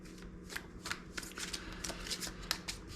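Deck of playing cards being shuffled, soft rapid riffling bursts repeating in a steady rhythm, quiet and close with no talking.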